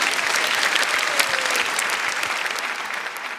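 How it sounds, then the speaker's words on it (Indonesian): Audience at a stand-up comedy show breaking into applause, a dense, steady wash of clapping from a sizeable crowd, close and loud, fading slightly at the end. "Tepuk tangan saya nggak marah kok ya."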